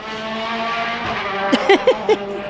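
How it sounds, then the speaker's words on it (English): Loud, steady roar of car engines going by on a road beside a campsite pitch, with brief high squealing tones breaking through toward the end. "I can still hear all the cars going past"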